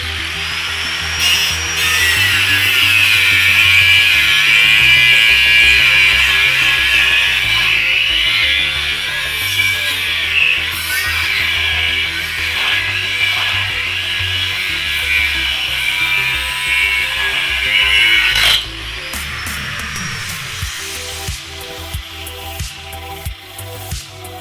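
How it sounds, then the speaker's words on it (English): An angle grinder fitted with a tile-cutting diamond disc grinds through steel bus seat bolts during a school bus conversion, a loud sustained whine with gritty rubbing that runs steadily for most of the clip before dropping off abruptly near the end. "Instead of using a cutting metal disc, I was using a diamond disc, which is used to cut tiles. So this is why it was a pain to cut through the bolts."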